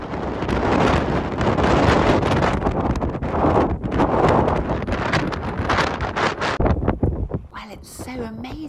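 Winter wind buffets the microphone on the Shetland Isles, a strong continuous rush with gusts, briefly giving way to a faint voice at the end.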